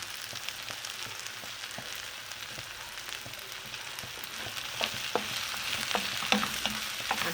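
Bell pepper and onion sizzle and crackle in a pan as they are stir-fried, with steady frying hiss and irregular scraping and stirring noises that grow a little busier toward the end. No one talks.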